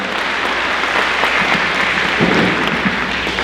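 An audience at a senior signing day applauds students and their parents: steady, dense clapping from many hands filling the room at a consistent level throughout.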